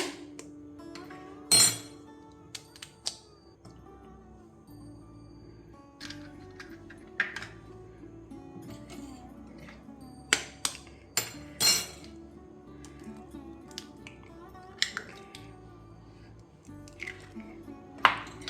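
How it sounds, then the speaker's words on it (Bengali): Two eggs cracked into a bowl while preparing chicken bread rolls: sharp, isolated clinks and taps of shell against the bowl's rim, spaced irregularly over a quiet background with a steady low hum. "একটা পাত্রে আমি দুটো ডিম ফাটিয়ে নিচ্ছি"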